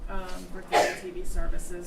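One sharp sneeze bursts out briefly during a town select board meeting, landing amid a man's ongoing speech in a room with light background noise.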